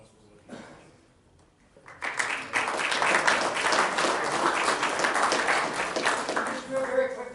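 Applause for a shop teacher breaks out at a school board meeting after a brief quiet pause, a room of people clapping steadily and fairly loud for several seconds.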